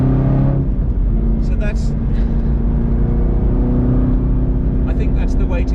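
A Chevrolet Camaro ZL1 1LE accelerates hard in third gear on a race track, its loud, steady engine drone running throughout while someone talks over it.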